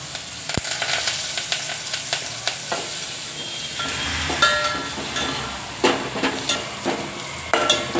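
Hot oil with asafoetida and onions sizzles and crackles steadily as curry leaves are dropped in, with occasional clinks of a metal spoon against the pan.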